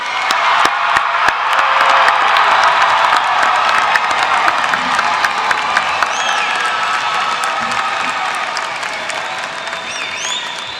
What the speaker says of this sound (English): Can we just give our seniors, our graduates, one more round of applause?